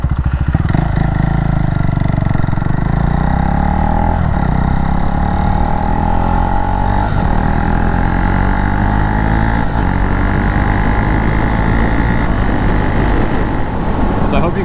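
A Honda Ruckus scooter engine from a finished Harlequin build holds a loud, steady run, its pitch rising and falling through revs for the whole stretch, with faint talk underneath.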